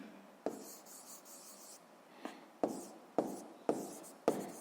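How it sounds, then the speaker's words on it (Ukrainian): A pen writes by hand on paper in a quiet room, soft scratchy strokes broken by sharp taps as the pen touches down, five or six short bursts spaced a second or so apart. "Отже, записуємо фізичне явище, записуємо механічне."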